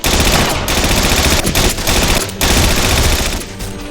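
Cannon broadside in the war game Battlestrike Shadow of Stalingrad: a loud, dense barrage of rapid gunfire blasts with brief gaps, fading slightly at the end.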